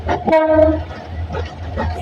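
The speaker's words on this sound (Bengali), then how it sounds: "প্রথমত ট্রেনের হুইসেলটা কিন্তু বেশ লাগছে" A train whistle gives one short, bright tonal blast over the low rumble of rolling rail cars on a rainy stretch of track, followed by continuing wheel and carriage noise.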